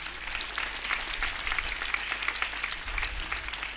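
A church congregation at a Holy Thursday service in the Vizag Diocese applauding its priests, a fairly faint, steady patter of many hands clapping together for a few seconds.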